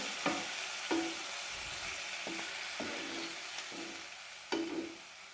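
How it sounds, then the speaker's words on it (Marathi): Onion and tomato sauté in a pan for a dhaba-style onion sabji: a soft, constant sizzle with a spoon scraping and tapping the pan about six times at uneven intervals, close and fairly quiet. "टोमॅटोचा कच्चेपणा घालवण्यासाठी आपण यामध्ये थोडासा परतून घ्यायचा आहे"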